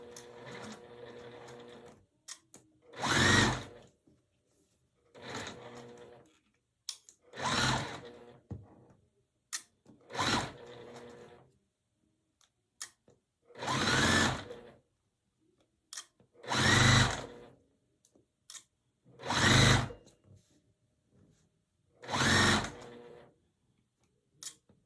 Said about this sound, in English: I'm gonna just sew them.